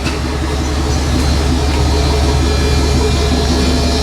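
A turbocharged LS-engined burnout truck runs at a steady, loud rumble up close, its deep low drone continuous and unbroken with no voices over it.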